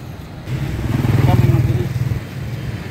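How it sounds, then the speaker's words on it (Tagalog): Motorcycles stream past fast on a busy street in Hanoi's Old Quarter, a close buzzing roar that swells and fades as the bikes go by, with people talking underneath. "Mabilis yung mga motor."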